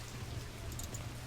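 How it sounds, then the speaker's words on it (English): Steady, soft rain patters on a roof in the 1997 point-and-click game Blade Runner, a continuous hiss with a low hum underneath and no other sounds. "You hear the sound of the rain on the roof."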